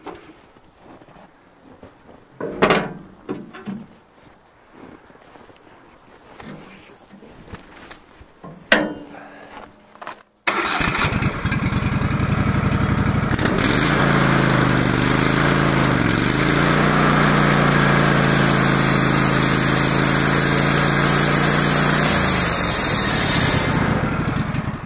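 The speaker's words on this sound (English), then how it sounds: "and start the motor." A Wood-Mizer LT15GO sawmill's engine is started after a few quiet clunks and knocks, then roars into a loud, close, steady run that holds to the end with slight shifts in pitch.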